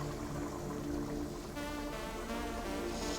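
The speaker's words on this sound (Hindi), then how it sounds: "देखें मैंने अब इसका पानी डाल दिया जितना मुझे चाहिए था।" Water pours steadily into a pot of white chickpeas, a continuous close splashing and rushing that stays fairly quiet throughout with no voices.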